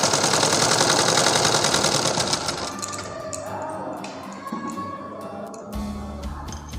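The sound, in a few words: sewing machine stitching the neck binding of a blouse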